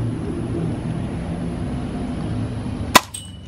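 A toy gun fires once near the end, a single sharp loud crack after a steady low rumble of background noise, followed by a brief fading echo.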